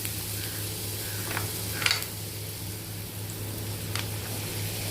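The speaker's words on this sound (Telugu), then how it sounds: "లైట్గా ఫ్రై చేసుకొని దీంట్లో క్యారెట్ యాడ్ చేస్తున్నాను." Carrots frying lightly in a pan with salt, giving a soft, steady sizzle under a low hum, with a few brief clinks of a utensil and no talking.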